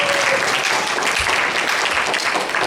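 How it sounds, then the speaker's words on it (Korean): Church youth Bible study workshop audience applauding: steady, close clapping from a group sustained throughout without a break. "박수 한번 주세요"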